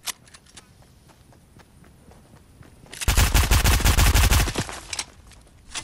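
Video game gunfire in a duos match, a dense rapid automatic burst of loud close shots lasting over a second, preceded by quieter footsteps and scattered taps.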